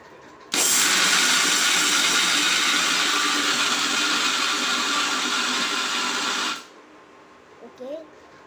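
A mixer grinder grinding peanuts and sugar whirs loudly and steadily for several seconds, then stops abruptly, leaving quiet with a faint bit of voice at the end.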